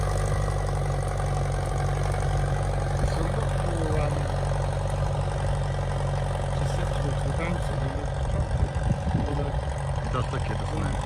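A steady low Ferguson TEA20 tractor engine rumble runs throughout, idling and chugging with a faint rhythmic knock, engine braking downhill, close by and fairly loud.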